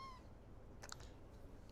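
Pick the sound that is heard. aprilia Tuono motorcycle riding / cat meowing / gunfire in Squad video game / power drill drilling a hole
cat meowing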